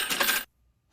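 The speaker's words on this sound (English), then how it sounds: "Yeah, cash register." A cash register sound effect rings out alone as a short, loud, bright metallic burst lasting about half a second, then cuts off into near silence.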